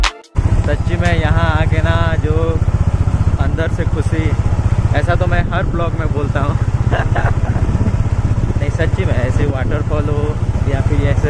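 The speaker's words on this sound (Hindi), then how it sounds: "ज़्यादा नॉइज आ रहा होगा बाइक के चलते हुए" A motorcycle engine runs steadily and loudly up close, with a person talking over its continuous rumble.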